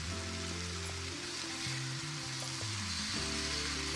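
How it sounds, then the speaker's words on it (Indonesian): Boiled chicken feet frying in a spicy-sweet seasoning in a pan, giving a steady, close hiss and sizzle with a low hum underneath and no talking. "kemudian kita masukkan ceker yang sudah kita rebus tadi"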